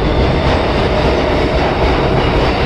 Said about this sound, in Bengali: তো এই তো নেমে পড়লাম ট্রেন থেকে